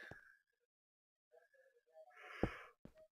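A yawn with drawn-out breathy, voiced sounds rising into a louder open exhale near the end, followed by a short sharp breath, close and fairly quiet, with silence before it.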